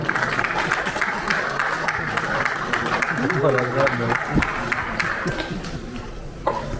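Applause from an audience at a Delhi commemorative event for the former prime minister, a steady dense wash of clapping throughout, with a speaker's voice talking over it.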